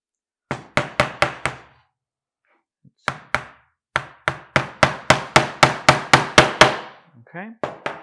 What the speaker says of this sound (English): now I'm going to start hammering the nails in.